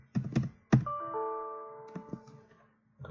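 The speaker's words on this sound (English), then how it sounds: "I'm typing it in." Keys tapped on a computer keyboard while entering an account code in accounting software, a few quick clustered clacks and thunks up close, then a pause with a faint sustained tone before a final key press.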